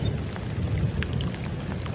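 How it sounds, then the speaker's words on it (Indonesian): Rain falls outdoors during eel fishing, a loud dense steady patter with a deep rumbling undertone and no voices. "Hujan makin turun."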